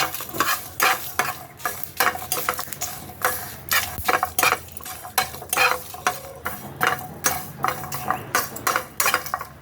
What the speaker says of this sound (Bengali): এটা আমি একটু ভেজে নেবো, শুকনো কড়াইতে একটু নেড়ে নেবো।